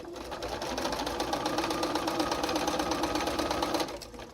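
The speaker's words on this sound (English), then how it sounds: "I'm going to look at this piece, and I'm going to sew." A sewing machine stitching a fabric flange border runs at a steady fast rhythm for about four seconds, close and continuous, then stops abruptly.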